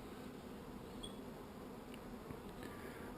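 Bees buzz faintly around the entrance tube of a hive, a low continuous hum that stays even and quiet throughout, with no voices.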